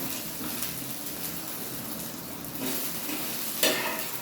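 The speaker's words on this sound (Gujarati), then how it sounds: "આપણે ચટણીનું શેકી લઈશું" Chutney ingredients roast in a pan for a rava onion uttapam meal, giving a steady close sizzle with stirring scrapes and a sharper clatter near the end, no voices.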